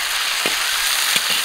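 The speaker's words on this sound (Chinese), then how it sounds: "锅里倒点油，油后下入泡好的调料" Soaked spices hit hot oil in a pan and sizzle with a loud, steady hiss, alongside a few soft low knocks, while lamb trotters are being prepared.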